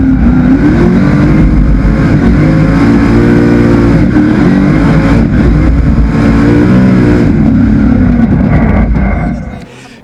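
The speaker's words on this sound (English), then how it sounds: "the Rattler Motorsport Autosure R34 Skyline, now sharing a similar heart to the Rattler Falcon with a 410 small block pushing 750 horsepower" Nissan R34 Skyline drift car fitted with a 410 small-block V8 making 750 horsepower, loud sustained engine roar at high revs with fluctuating pitch throughout, close and continuous, fading slightly at the end.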